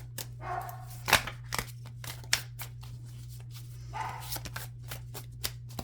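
Crisp bursts of tarot cards being shuffled, several riffles and snaps in quick succession over a steady low electrical hum, with a dog barking faintly at times.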